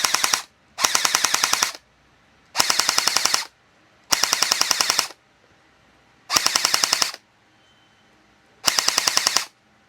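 A Cyma M4A1 gel blaster fitted with a heavy spring fires six loud full-auto bursts of rapid mechanical clacks, each lasting about a second, separated by short silent pauses.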